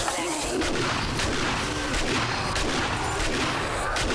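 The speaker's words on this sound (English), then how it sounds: "I hadn't used the shotgun in a minute, so I figured let's use the shotgun and really take advantage." A shotgun fires repeatedly in the zombie survival game 7 Days to Die on PC, clearing biters from a hotel, dense loud blasts in rapid succession with a brief voice.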